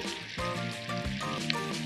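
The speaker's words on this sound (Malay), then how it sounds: "kita goreng dalam 3 ke 4 minit. Kacau-kacau dan balikkan supaya masak sekata" Cucur bilis fritters of gluten-free batter deep frying in hot oil, giving a steady, close, loud sizzle with bubbling crackle and a few stirring bumps, no voices.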